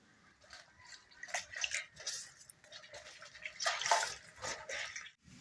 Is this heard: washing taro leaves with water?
yes